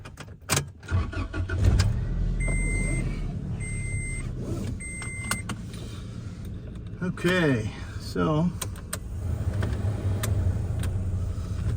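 A pickup truck with about 198,767 miles is driven before an HPS intake pipe is installed, its engine humming steadily under short spoken remarks, with a few beeps and a rising-and-falling whine partway through.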